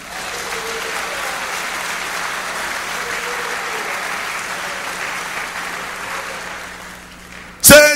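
Church congregation applauding during a service, sustained dense clapping from many hands filling the room steadily for several seconds before a brief louder burst at the end.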